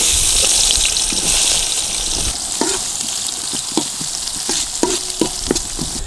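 Sliced onions sizzle loudly in hot oil with bay leaves and cinnamon in a pan, a steady close frying hiss broken by intermittent stirring clinks and scrapes.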